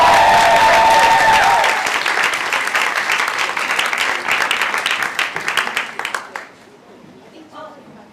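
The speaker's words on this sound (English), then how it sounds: "Give a round of applause for them." An audience at a youth arts showcase bursts into loud, dense applause that fades into scattered claps over several seconds before quieting into room noise.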